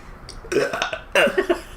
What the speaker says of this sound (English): Burp obnoxiously, too.